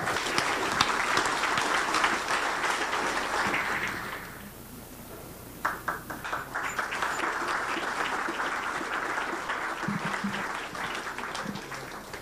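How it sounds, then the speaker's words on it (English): Audience at a Hawaii County police officer of the year ceremony applauds first responders and their families, sustained clapping that briefly thins mid-way, then swells again and continues. "give them a round of applause, please"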